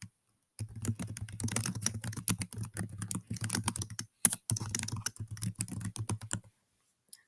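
Text typed on a computer keyboard in a rapid, uneven stream of close, crisp key clicks with a short break partway through, then silence at the end, and nobody speaking.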